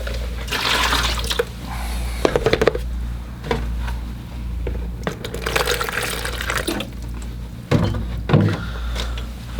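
Fresh water runs from a tap into a container for watercolor painting, a steady splashing flow with a few clinks and knocks, heard alone at close range.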